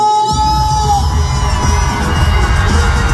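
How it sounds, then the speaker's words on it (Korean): Big outdoor crowd at a festival eve concert in Busan roaring and cheering continuously, a loud dense wall of yells and whoops with no breaks, a high whistle-like tone briefly riding on top. "함성 소리 작아요. 다시 한번 함성!"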